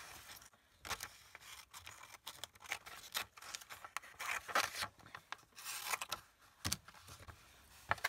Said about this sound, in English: let's cut in here